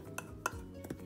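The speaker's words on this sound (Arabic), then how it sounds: "نحركهم كلهم كده مع بعض" A spoon stirs sugar and salt together in a bowl for homemade simit dough, giving a few quick scraping clinks against the bowl at a moderate, close level.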